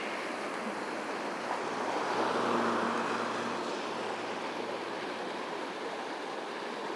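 Creek water flowing in Payson Canyon, Utah, heard as a steady, soft rushing wash with light wind, continuous and fairly distant, with no talking.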